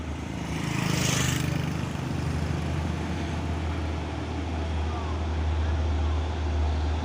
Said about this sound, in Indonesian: dari belakang juga ada truk coklat.